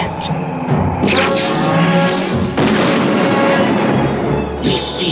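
A cartoon explosion destroys an outpost in the 1986 Transformers animation, with booming blasts and rumbling debris layered over shouted voices, loud and dense, then easing off near the end.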